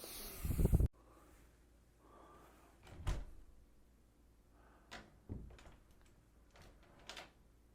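A door bumps and clicks shut several times in a quiet room, with soft knocks and latch sounds spaced a couple of seconds apart, triggering a Wyze security door sensor.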